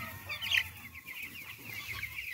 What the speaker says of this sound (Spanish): Quería mostrarles estos pollitos de 2 semanas.